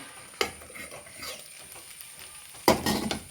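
A jackfruit seed and plantain stir-fry with coconut oil and curry leaves is stirred in a pan, giving two short scraping clatters with faint sizzling in between.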